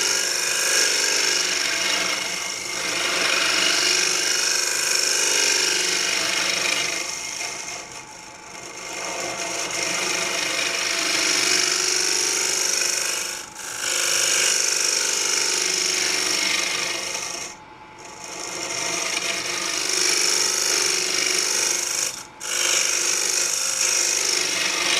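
A round carbide woodturning tool hollows a microwaved redwood bowl blank on a lathe, producing a steady, close scraping hiss that continues for the whole stretch, with a few brief dips as the cut pauses.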